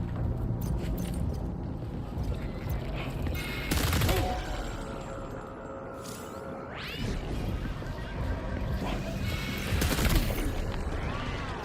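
Assault rifle fire in Death Stranding 2 crackles through a dense game mix, with bursts of shots around the middle and end amid loud ambient effects and other game sounds.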